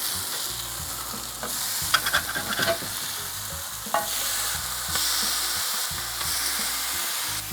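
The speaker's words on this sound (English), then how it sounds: "Now we can flip over our patties." Sausage patties sizzle steadily on a barbecue grill as they are flipped, with a continuous crackling fry and a few sharper scraping knocks from the turning, close and fairly loud with no talking.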